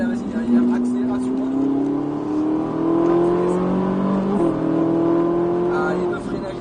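Ferrari F458 accelerating hard on the Circuit du Luc, its engine note rising steadily through the gears with a brief dip at a gear change, loud and continuous from the cabin while a voice talks over it.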